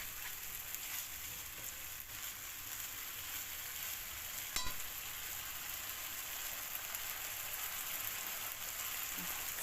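Quinoa toasting and sizzling in a pan while being stirred, a steady dense crackle and hiss at moderate level with a brief scrape near the middle, no talk.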